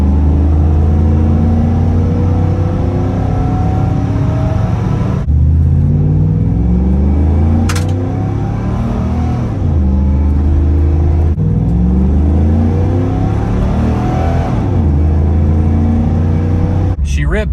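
A 1995 Chevrolet Camaro Z28 V8 revs loudly and repeatedly up and down, its deep rumbling engine swelling and falling in waves close by, with a voice briefly heard over it.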